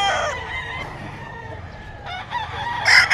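Roosters at a busy pet market in Bocaue crow and cluck amid a noisy crowd, with a louder burst of crowing near the end.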